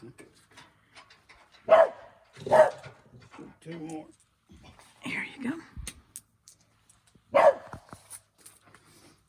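A blue heeler barks a few times close by, sharp single woofs spread apart, with someone speaking quietly between them outdoors near a sawmill.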